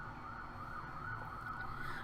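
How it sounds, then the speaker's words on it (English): Emergency vehicle sirens wail outside, steady and faint, as a continuous muffled tone coming from some distance. "Apologize for the sirens."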